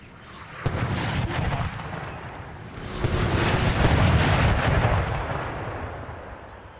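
Incoming howitzer artillery fire in the Napoleonic battle game NTW3 gives a dense, rumbling barrage of booms and bursts that swells in the second half, loud and continuous with no talk.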